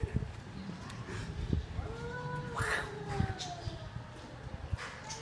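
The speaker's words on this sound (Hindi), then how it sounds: "यही वो कातिल बिल्ली है" A cat lets out drawn-out, wavering yowls close by, with scattered knocks and rustling around it.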